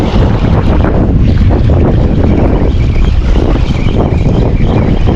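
Strong wind blowing at sea during fishing, roaring steadily and loudly across the microphone with a dense, constant rush and no voices.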